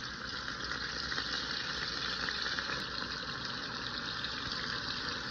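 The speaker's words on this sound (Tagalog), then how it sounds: "mainit yung mantika ko. Ayan. Lagyan na natin yung ating tofu." Tofu frying in hot oil for pancit miki, a dense, steady sizzle that holds loud and unbroken throughout with no voices.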